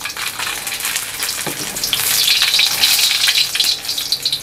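Garlic frying in a little oil at the start of sweet chilli squid: a bright, close sizzle that swells louder after a couple of seconds and crackles steadily, with no voices.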